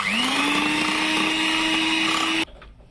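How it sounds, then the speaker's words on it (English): An electric whisk or hand mixer beating a coffee scrub mixture whines steadily and loudly at close range for over two seconds, then cuts off abruptly, leaving a quiet room. "now we are going to go ahead and whisk this well"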